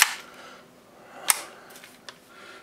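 A Project Mjolnir KC-02 gun with a recoil kick fires three sharp, snappy shots, one strong at the start, another a second later and a fainter third, with no talking.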